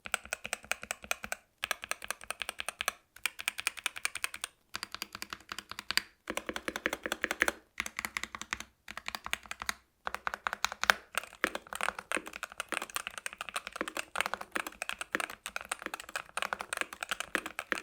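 A Wooting 60HE Plus mechanical keyboard is typed on steadily, with rapid, crisp, close-up key clacks in continuous bursts separated by a few brief pauses.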